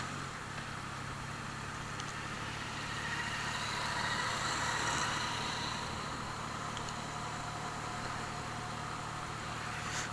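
A Triumph Trident 660 motorcycle with a 17T sprocket riding slowly in gear at low revs on an uneven road, its engine a steady close drone with wind rush that swells slightly midway and then eases.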